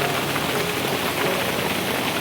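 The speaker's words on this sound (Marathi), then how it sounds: "आता बघा पावसाचा जोर पावसाने वाढवला आहे परत, मस्त पाऊस पडतो" Heavy monsoon rain pours down in a dense, continuous hiss that fills the space close by, with no other sound standing out.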